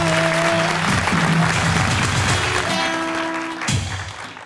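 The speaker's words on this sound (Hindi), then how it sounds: "एक दफा सरमत भाई के लिए तालियां।" Studio audience applauding Sarmad Khoosat on a TV talk show, steady dense clapping throughout with music tones underneath, tapering near the end.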